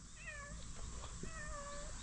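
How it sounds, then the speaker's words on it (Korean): A cat meows twice outdoors along a hillside running route, two drawn-out wavering cries close by over a low rumble of background noise. "야옹이가 오고 있어요 야옹"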